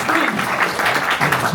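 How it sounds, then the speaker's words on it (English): Audience applause at a live chess event in Hamburg, a short, loud, dense burst of clapping from a crowd. "The round of applause is for the screen."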